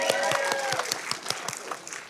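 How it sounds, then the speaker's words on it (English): An audience claps in scattered, uneven bursts after a California state senator mentions a plastic bag ban during an environmental talk, with sharp hand claps fading toward the end. "I appreciate the applause for that"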